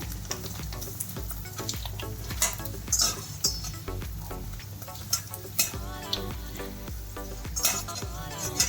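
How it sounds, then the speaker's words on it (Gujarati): Sago chakri wafers sizzle and crackle steadily in hot oil, with intermittent clinks and scrapes of a utensil against the pan close by. "આપણે આ ચકરીને પણ આવી રીતે આમ તળવાની છે"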